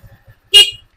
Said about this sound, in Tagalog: pag sa baba natin, stock horn lang siya ha